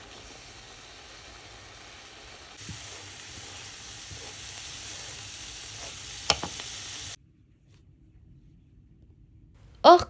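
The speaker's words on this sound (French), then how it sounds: "Ajoutez 60 ml de vin blanc et terminez la cuisson jusqu'à évaporation complète du vin" White wine cooks down in a pan for a crêpe gratin filling, giving a steady close sizzle and hiss with a few utensil knocks before the sound stops, then a sharp clatter at the end.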